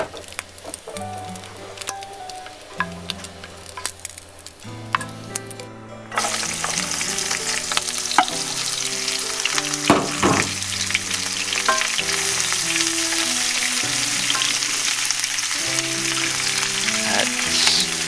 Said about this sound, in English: you just fry the bacon in no oil